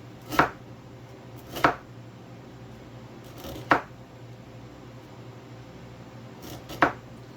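Four sharp knife cuts slicing hard radishes thinly on a board, spaced a second or two apart, with quiet room tone between them.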